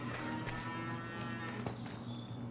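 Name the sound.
cows mooing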